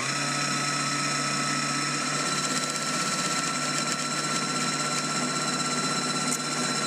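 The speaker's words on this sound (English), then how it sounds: "I'm going to wind my bobbin until it's completely full" A Husqvarna Viking Jade 20 domestic sewing machine winds a bobbin with a steady, high, whirring motor drone, running continuously and evenly at close range with no talk.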